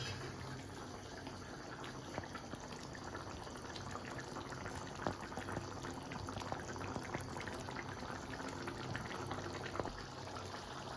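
A steady, dense bubbling of chicken curry at a rolling boil in a pot, continuous and close, with small pops and no voices.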